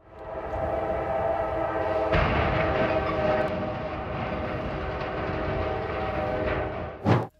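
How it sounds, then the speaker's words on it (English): A freight train rumbles loudly and steadily through a railway crossing, its horn droning in sustained tones, ending with a brief sharp clank. "a freight train rammed into a semi-trailer truck stuck on the tracks at a railway crossing"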